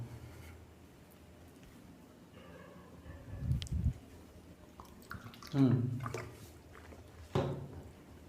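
A teacher drinking water in a quiet room: three soft, close swallowing gulps spaced a couple of seconds apart, with faint handling noise between them and no talking.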